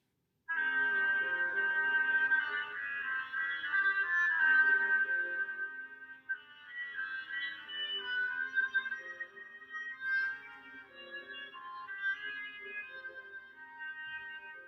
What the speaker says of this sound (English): Can you hear the nasally sort of sound of the oboe?